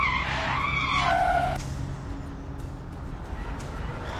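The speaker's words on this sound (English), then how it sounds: "Volvo trucks feature auto emergency braking system that can bring trucks to a standstill within" A Volvo FH16 truck brakes hard in an emergency stop during a safety test. The tires give a loud screech for about a second and a half, then fade into a low rolling rumble.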